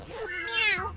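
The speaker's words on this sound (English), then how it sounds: "Meow. Meow." A single drawn-out cat meow, close and fairly loud, rising then falling in pitch, with no other sounds around it.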